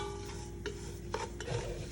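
Semolina roasting in a pan for upama is stirred, making a faint close scraping and rustling with a few soft clinks over a low steady background.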